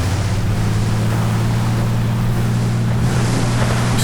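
An RC seaplane speeds across the water, a steady loud motor drone mixed with splashing and wind rushing over the microphone, close and continuous throughout.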